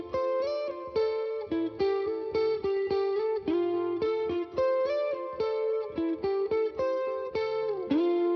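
Distorted indie rock lead guitar through a glue compressor, playing a steady rhythmic riff of repeated bright notes with reverb, alone and with even, compressed loudness.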